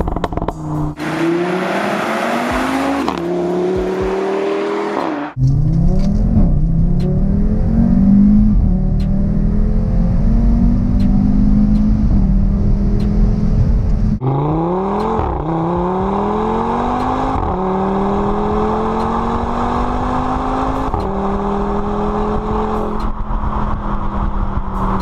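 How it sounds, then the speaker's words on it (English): An Audi RS3 engine revs hard on country roads, climbing through gears in loud rising sweeps, then blipping and dropping sharply on downshifts, the close, throaty roar continuing throughout with no talking. "And listen to the downshifts."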